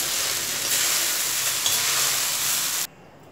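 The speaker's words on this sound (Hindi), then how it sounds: "हम जो हमारे पोहे हैं वो डाल देंगे, मिला देंगे अच्छे से। इस तरह से अच्छे से मिलाना है।" Flattened rice (poha) is stirred in a hot pan, a continuous close sizzle with soft scraping stir strokes that cuts off abruptly near the end.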